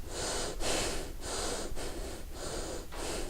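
Loud breathing is demonstrated, with quiet inhalation and exhalation in an even rhythm of about six rushing breaths, each a close, airy whoosh separated by brief pauses.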